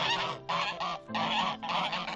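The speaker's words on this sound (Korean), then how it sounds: "그레이가 바로 옆에 덕이가 있음에도 불구하고 암컷 거위와 교미를 하고 있다" Geese honk loudly and close by in a quick series of harsh, nasal calls with brief pauses between them.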